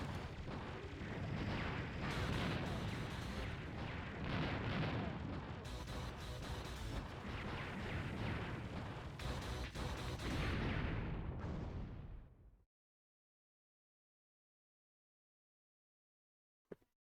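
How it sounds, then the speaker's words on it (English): Grenade weapon fire from the Einhänder shoot-'em-up video game, a dense roar of continuous explosive blasts for about twelve seconds that cuts off abruptly, followed by silence and one short pop. "they're not even rockets. They're grenades, which means they have drop-off"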